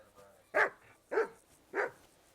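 Dog barking in Kingdom Come: Deliverance II: three evenly spaced, moderately loud barks, each about half a second apart, over quiet game ambience.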